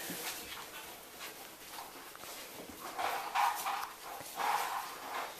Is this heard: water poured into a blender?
no